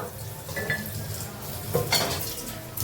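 Uggani being stirred with salt and chili in a pan on low heat, soft scraping and clinking of a utensil against the pan over a gentle sizzle, with a couple of louder scrapes.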